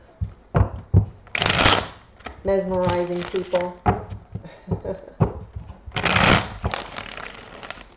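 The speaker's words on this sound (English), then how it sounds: "All right, one more shuffle." Tarot cards are riffled and shuffled in several quick bursts, crisp rapid flutters, while a person talks over them.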